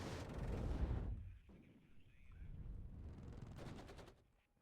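Gunfire in the WARNO strategy game: a dense burst of shots with a rumbling low boom in the first second, then a quieter distant rumble and a second sharp crackling volley near the end, with no voices.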